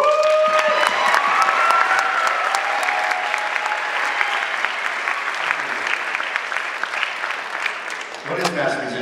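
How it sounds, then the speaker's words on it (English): A large audience at the 2012 Hillsborough County Master Musicians awards ceremony claps steadily and loudly for about nine seconds, with a few whistles and cheers rising near the start before the applause begins to thin at the end. "Please give him a round of applause."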